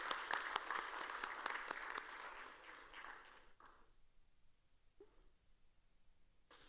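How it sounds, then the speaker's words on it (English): Audience applause at the SXSW 2023 food summit: brisk clapping at first, thinning and fading out after about three seconds, leaving near quiet with a few stray sounds. "Big round of applause"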